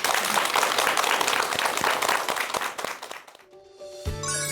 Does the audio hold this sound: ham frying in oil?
no